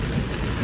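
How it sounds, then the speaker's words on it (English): Heavy rain roaring steadily and loudly, a dense continuous hiss with no pauses. "the rain is so loud."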